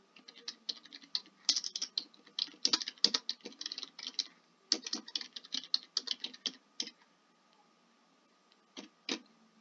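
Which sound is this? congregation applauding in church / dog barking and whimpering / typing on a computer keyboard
typing on a computer keyboard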